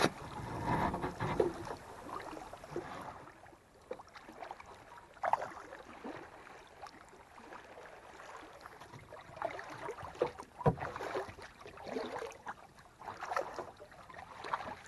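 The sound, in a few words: kayak paddling into a canyon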